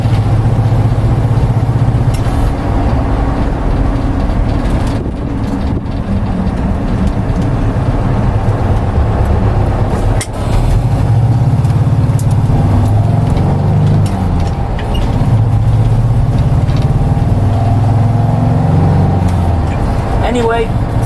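A 1977 VW Bay Window Westfalia camper van on the road, its low engine drone and drivetrain rumble steady and loud throughout, with road noise under it.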